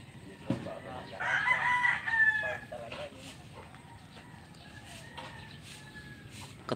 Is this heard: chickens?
yes